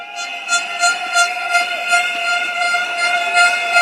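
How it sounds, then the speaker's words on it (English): Air horns blown by the crowd at an outdoor political rally for Nee Soon GRC in Singapore's 2025 general election, giving a loud, sustained, overlapping blare that pulses in waves. "I'm hearing the air horns."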